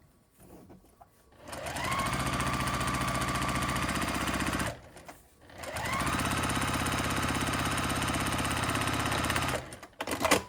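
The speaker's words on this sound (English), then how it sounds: "we're going to sew across the top now" Sewing machine running steadily as it stitches across the top of a fabric tote bag, two long loud continuous runs separated by a short pause, with brief handling noise at the start and end.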